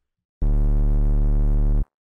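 Single sustained synth bass note from Serum with chorus and a high pass filter, a steady buzzy harmonic tone lasting about a second and a half, starting and stopping abruptly, alone with no voices.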